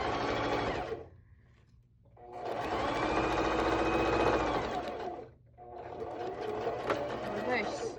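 A sewing machine stitches a fabric scrunchie in three loud, close bursts of rapid whirring, separated by short pauses where the motor stops and starts again.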